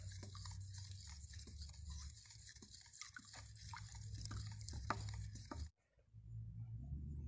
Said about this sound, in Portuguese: eu vou diluir aqui com o auxílio de uma colher